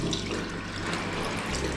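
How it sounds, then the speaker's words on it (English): Running tap water at normal pressure rinses a K&N air filter, a steady close rush of splashing water with no pauses. "Just rinse it with normal pressure. This is not warm water, this is not hot water, this is normal room temperature"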